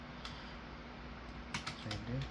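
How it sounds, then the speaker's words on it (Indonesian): Fingers tap a computer keyboard, typing a command into a Windows command prompt, as a few light, soft clicks scattered over a low, steady background hiss. "kita ketikkan saja di sini yaitu cd"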